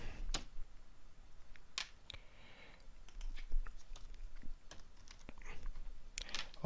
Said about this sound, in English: let's type this command